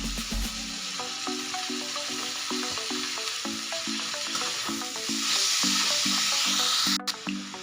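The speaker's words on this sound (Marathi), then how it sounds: "आता आपण जी मेथी बारीक कट करून घेतली होती ना ती याच्यामध्ये टाकून छान परतून घ्यायची।" Finely chopped fenugreek leaves sauté in a pan for methi thecha, sizzling continuously and fairly loudly up close while music plays in the background.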